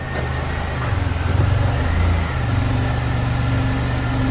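A 2000 Chevrolet Monte Carlo SS pace car idling as it is shifted into gear, a steady low engine rumble with a brief swell in load around the shift, close and continuous.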